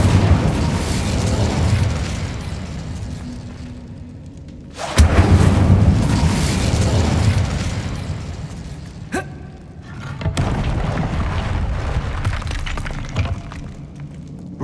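Fiery Incendio spell blasts in Hogwarts Legacy, a loud burst at the start followed by roaring, crackling fire, with another sharp hit later and more sustained rumbling flames, no talk.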